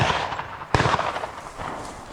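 A single sharp rifle shot cracks out during a driven wild boar hunt outdoors, a loud sudden report with a brief rumbling tail amid background noise.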